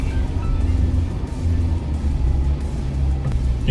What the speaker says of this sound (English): when you're stepping on it and it's sunny, the sand's not so soft, the car just like lurches forward